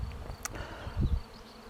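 A short burst of honeybees buzzing close by over sainfoin, with a low droning swell near the end over quiet outdoor background.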